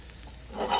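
Brief, quiet sizzle of oil hitting a hot pan, rising slightly in the last moment.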